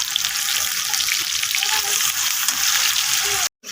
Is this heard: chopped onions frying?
yes